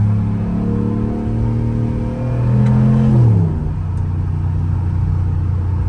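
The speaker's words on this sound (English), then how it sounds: "Y'all hear that supercharger a little bit?" Supercharged Ram TRX pickup truck driving, its steady engine drone rising and shifting in pitch with a supercharger whine layered on top, heard loud and continuous from inside the cab.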